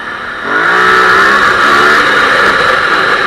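An Aprilia Dorsoduro 900 motorcycle revs hard through its large exhaust. The engine note climbs steadily and stays loud and close, with no talking over it.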